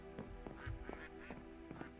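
Ducks quack in a wildlife park video game, a few short calls scattered over a steady hum of background ambience, moderately close and fairly quiet.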